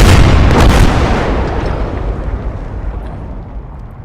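Artillery cannon firing in the Call to Arms: Gates of Hell video game, a single loud close boom followed by a long rumbling decay that fades out over several seconds.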